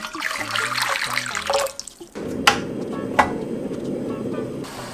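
Hot water pours into a pot, a steady watery rush with a couple of sharp clinks, preceded by brief talk and kitchen sounds.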